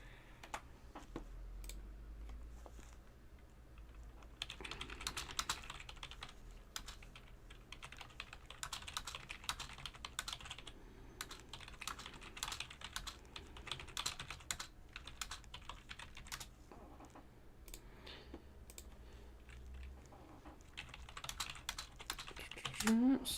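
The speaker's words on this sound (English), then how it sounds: "So sorry for all the typing." Bursts of rapid typing on a computer keyboard, close and moderately loud, with clustered clicks separated by brief pauses over a quiet room background.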